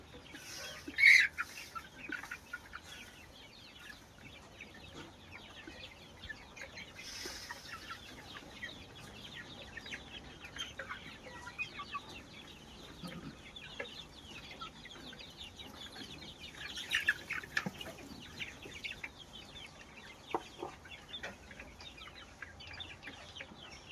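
Chickens on a sheep and poultry farm cluck and squawk in a steady, busy flock chatter throughout, with a few sharper, louder calls standing out near the start and again partway through.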